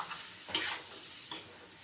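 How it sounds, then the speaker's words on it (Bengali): Marinated chicken and potatoes are stirred and fried in a pan for chicken kosha, a soft steady sizzle with two brief scraping stirs of a utensil, heard close and without any talking. "এখন ভালো করে নাড়িয়ে কষতে দিতে হবে।"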